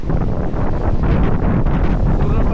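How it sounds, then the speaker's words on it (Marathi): A rough, churned-up sea pounds the shore at Vengurla during a monsoon cyclone as bent trees whip in the gale. It is a dense, continuous roar of crashing surf, heavily buffeted by wind noise. "पूर्णपणे खवळलेला आहे समुद्र."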